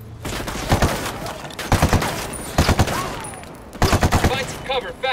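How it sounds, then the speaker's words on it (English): Gunfire in Ghost Recon Wildlands breaks out in sharp, loud bursts of rapid shots at close range, three or four clusters separated by brief pauses, with voices talking around them. "Acabo de escuchar un tiro."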